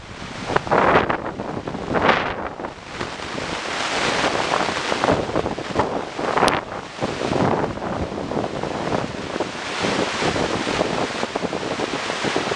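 Strong wind roars and buffets the microphone continuously, with a rushing, surf-like texture and no voices.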